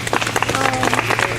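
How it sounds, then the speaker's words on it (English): Brief, loud burst of audience clapping at a Richmond community gathering, dense and continuous with a steady hum underneath and faint voices mixed in. "So give her a hand clap."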